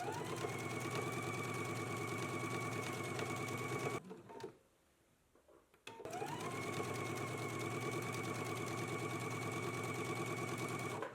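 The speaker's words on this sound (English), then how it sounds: "Let's go ahead and stitch it in place now." A sewing machine stitches lace onto fabric with a rapid, steady mechanical whir close by, stopping for about two seconds of near silence before starting again and running to the end.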